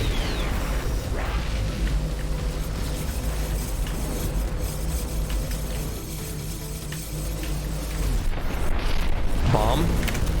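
A bomb goes off in X-Morph Defense, a deep boom rumbling amid constant mechanical game noise and weapon fire, with a voice speaking over the action.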